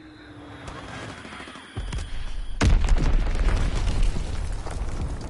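A bomb explodes in the World War II shooter Call of Duty: WWII, a loud sudden blast midway that leaves a heavy rumbling roar and debris noise after it.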